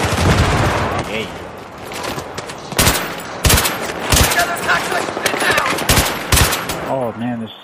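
Rapid automatic gunfire fills a Battlefield 3 co-op mission, loud repeated bursts of shots crackling in quick clusters, with players' voices talking over the firefight.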